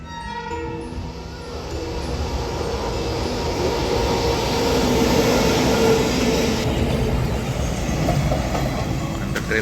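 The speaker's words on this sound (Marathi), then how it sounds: "मालगाडी आहे" A long freight train rumbles past a railway level crossing nearby, wheels clacking steadily over the rails as the roar builds and holds.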